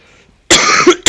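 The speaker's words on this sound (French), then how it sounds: "Pardon, je te tousse un peu dessus." A single sharp, close cough in two quick bursts, loud after a moment of near silence, from someone at a computer during a game stream.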